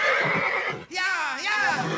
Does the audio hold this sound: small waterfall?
no